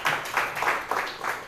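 Audience applause in a church during a sermon, a steady wash of many hands clapping with rhythmic swells, moderately loud and fairly close, with no talk over it.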